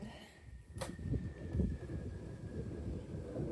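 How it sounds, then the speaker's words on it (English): Outdoor wind gusts buffet the microphone in a low, rumbling roar that rises and falls steadily, close and moderately loud, with a brief sharp rustle early on. "Oh, if the wind would cooperate."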